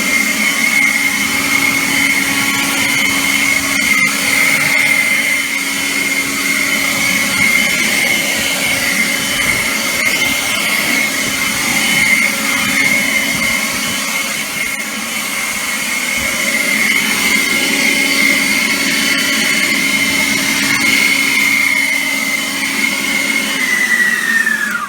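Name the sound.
powerful air blower blowing out car interior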